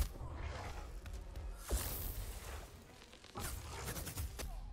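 Laser weapon blasts in the video game Dauntless, with two bursts of sharp, crackling energy, one near the middle and a longer one toward the end, over a low rumbling game backdrop.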